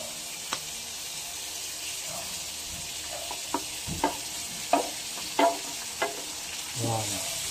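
Chorizo and onion fry in a pan with a steady sizzle, broken by repeated scraping and knocking as the mixture is stirred with a utensil, close and fairly soft.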